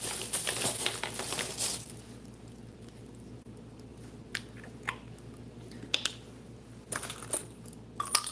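Collectible 50 states quarters handled at close range, with bursts of sharp metallic clinks and jingles at the start and scattered single taps and clicks afterward over a quiet room background.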